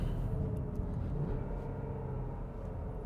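A Porsche Macan SUV accelerates on the road, a steady low engine rumble with road and wind noise heard from inside, even and continuous with no talk.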